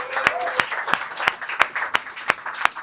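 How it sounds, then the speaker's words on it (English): Applause at a design meetup's anniversary gathering for two partners, Peter and Jack: a small group clapping, with a few distinct loud claps landing in a slow, regular rhythm over a soft wash of lighter clapping. "So round of applause"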